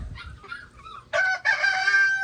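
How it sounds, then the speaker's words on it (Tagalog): A pet rooster crows loudly and close by in one long, strained call, preceded by a few softer clucks and murmurs from the backyard chickens. "so ito yung mga alaga nating manok guys"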